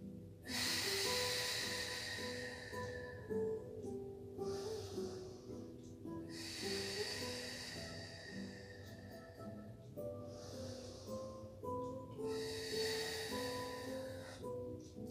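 Slow, deep breaths during a pilates breathing exercise come in long repeated cycles of inhale and exhale, close and soft, with no talking.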